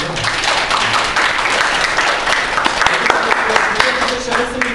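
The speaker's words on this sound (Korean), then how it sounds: "아무튼 뜨거운 박수 한 번 더 좀 부탁드리고요" An audience at an Ubuntu seminar gives a burst of loud, sustained applause, dense clapping filling the room from start to finish.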